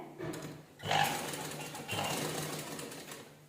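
A sewing machine double-stitching a blouse sleeve, running in two bursts of rapid steady whirring with a brief pause between them, close and moderate in level.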